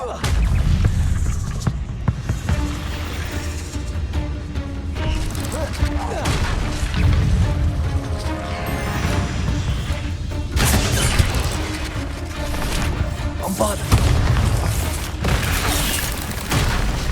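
Bombarda spell explosions in the wizarding game Hogwarts Legacy, heavy booms and crashing impacts amid a dense, continuous battle din, with a voice talking over it.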